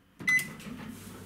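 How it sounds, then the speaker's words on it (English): A microwave oven set on high for a one-minute muffin, heard as a door or button clunk followed by a steady low electrical hum that continues alone at moderate level. "Microwave on high for 60 seconds."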